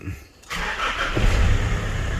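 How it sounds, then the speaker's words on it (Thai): A Nissan Navara pickup engine cranks and catches after a brief quiet, then settles into a steady, close, fairly loud running rumble with no talk over it. "สตาร์ทเครื่องให้ดูนิดนึงนะครับ"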